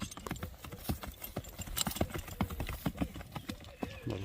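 A horse being led at a walk on a Kyrgyz farm gives a run of close, fairly loud hoof clip-clops, with steady overlapping footfalls and no talking.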